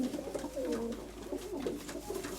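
Low, soft pigeon cooing repeats in rolling phrases, fairly close, over a steady outdoor background hum.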